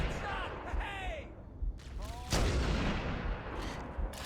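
Gunfire in Halo: Combat Evolved comes as several sharp, booming shots with heavy thuds, loud and close amid noisy battle sounds, with shouted voices between the bursts.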